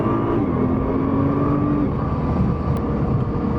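A 2018 Nissan GT-R Premium accelerates in first gear, a loud, steady engine drone heard from inside the car, with rising tonal whine over continuous road and cabin rumble.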